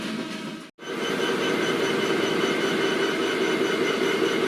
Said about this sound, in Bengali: বনলতা এক্সপ্রেস মৌচাক রেলওয়ে স্টেশন এবং রংপুর এক্সপ্রেসকে থ্রু পাস করে গেল